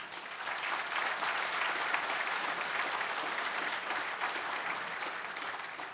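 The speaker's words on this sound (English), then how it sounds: "How about a round of applause from everybody here from the Wyndham?" A banquet audience at an awards dinner claps in a dense, even round of applause, moderately loud and sustained from start to finish with no talking over it.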